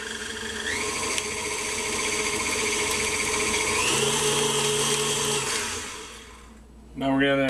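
Electric mixer creaming cheesecake bar batter, a steady high motor whine with a shift in pitch partway through, close and loud, then slowing and stopping near the end.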